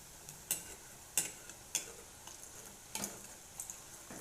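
Bhaji frying in hot oil, giving a faint, steady background sizzle broken by several sharp crackling pops at irregular intervals, with no voices.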